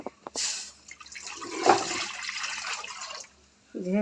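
Water splashing into a kadai for kheer pitha, a short continuous gush with a liquid sloshing peak, briefly under a voice.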